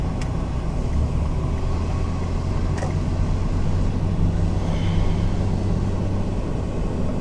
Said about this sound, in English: I'm going up a hill to get on the highway and it went into too high of a gear